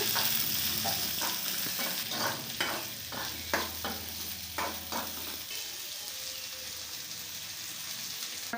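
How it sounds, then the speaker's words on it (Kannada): Onion and green chili frying in a pan for a breakfast dish, a steady close sizzle with repeated scraping stirs of a spatula through the first half, then settling into an even hiss. "ಉಳ್ಳಾಗಡ್ಡಿ ಮೆಣಸಿಕಾಯಿ ಹಾಕೋಣ ಇದು ಫ್ರೈ ಮಾಡ್ಕೊತೀನಿ"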